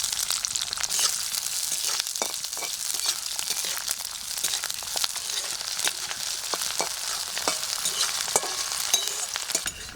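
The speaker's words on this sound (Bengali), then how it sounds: "হালকা ভেজে নেবো তেলে দিয়ে" Diced onions fry in oil in a wok, giving a steady, close, bright sizzle with crackling and scraping stir strokes throughout, and no talk.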